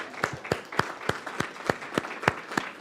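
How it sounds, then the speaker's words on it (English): A church congregation claps in a steady, even rhythm of distinct, fairly loud beats for a few seconds. "let's give them a round of applause too."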